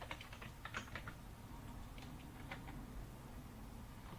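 Keys clatter on a computer keyboard in quick bursts, with short pauses, fairly close but quiet over a steady background hiss.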